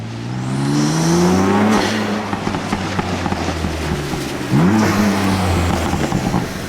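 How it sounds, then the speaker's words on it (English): BMW F80 M3 with its S55 engine, tuned with upgraded intake and exhaust, revving loudly in two sweeping pulls with a deep raspy tone, rising and falling sharply, with a steady idle-like drone between the bursts. "I like the sound of the S55, especially once tuned and paired with intakes and exhaust"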